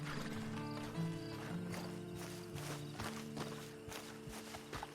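Horse hooves clip-clop in Red Dead Redemption II, under steady game music with a brief neigh; the footfalls are soft and blended into the mix rather than standing out.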